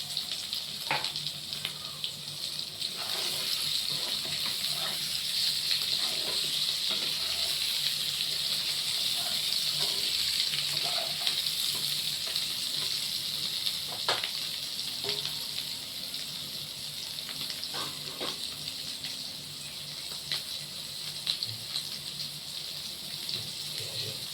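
Potatoes fry in a pan of white oil and mustard oil, giving a steady, close sizzling hiss that carries on evenly throughout with faint clinks and no speech.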